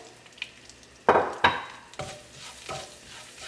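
Roughly crushed fennel seeds and cumin seeds hit hot oil with two sharp bursts of sizzle, then a steady crackle and light stirring scrapes up close, with no talking.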